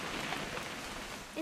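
Rain in the video game What Remains of Edith Finch falls as a soft, even hiss of drops, faint and steady throughout with no voices.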